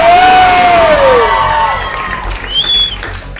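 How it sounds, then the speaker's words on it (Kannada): An indoor audience at a motivational talk claps and cheers loudly as a speaker is welcomed, with a loud whooping shout and a high whistle rising above the noisy crowd. "ಜೋರಾದ ಚಪ್ಪಾಳೆ"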